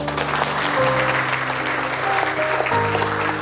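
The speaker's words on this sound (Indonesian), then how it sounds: "Tepuk tangan untuk ini." Applause from a student audience at a scholarship briefing for Indigenous Papuan youth in Jayapura, a dense steady wash of clapping over a sustained musical drone, loud and continuous throughout.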